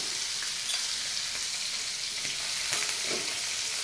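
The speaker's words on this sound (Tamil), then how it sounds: "பன்னீர் ஃப்ரை ஆகட்டும்" Paneer cubes fry in oil in a pan, giving a steady, close hiss and crackle with faint stirring clicks throughout and no talk.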